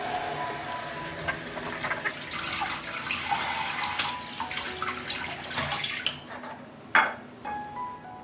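Tap water runs steadily over two tender, freshly picked eggplants being rinsed in a sink, with soft splashing and rubbing close by, then a couple of sharp knocks near the end.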